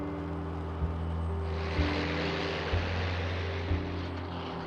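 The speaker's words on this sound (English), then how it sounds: "Successful carrier takeoffs such as these demonstrated the plane's far-reaching capabilities" A P-47D Thunderbolt propeller fighter taking off from an aircraft carrier flight deck: a loud, steady engine drone with a pulsing low throb and rising broadband roar as the run builds.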